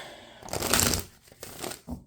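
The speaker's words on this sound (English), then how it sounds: "I'm going to shuffle again to see what comes out" A quick shuffle of a tarot deck at a reading, a few crisp riffling bursts of cards over about two seconds, close and fairly loud with short gaps between.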